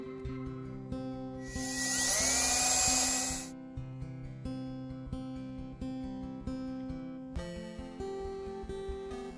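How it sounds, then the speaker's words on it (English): A power drill pre-drills holes for mounting screws with one brief, high, rising whine lasting about two seconds, set against steady background music. "Now just pre-drilling my mounting screws."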